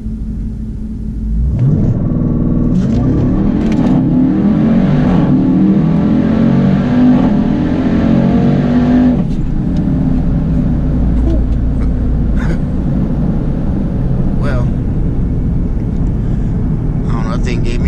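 A 2018 Jeep Trackhawk launching under launch control in a full-throttle 0 to 100 pull, its engine roaring loud and close as it climbs through the revs, with a gear change partway through and a voice briefly heard over it.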